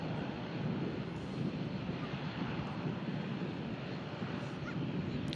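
A Virgin Atlantic A350-1000 airliner arriving on a long flight from Orlando gives a steady, broad jet roar, moderately distant and continuous, with some wind buffeting on the microphone and no talk.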